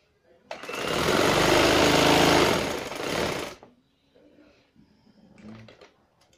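An electric sewing machine stitching trousers runs in one loud, close whirring burst for about three seconds, then stops, followed by faint handling sounds.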